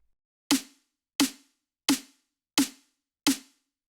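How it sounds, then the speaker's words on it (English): Five identical drum and bass snare drum sample hits with a full low-end body, evenly spaced and punchy, each decaying quickly into silence. "a snare with a little bit more body in it, a little bit more low end."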